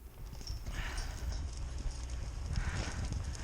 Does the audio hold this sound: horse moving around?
yes